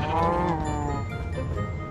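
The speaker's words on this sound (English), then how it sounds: "Well, we got some cows." Cow mooing in the Minecraft video game, a single long, loud, close low moo that drawls and fades over about two seconds.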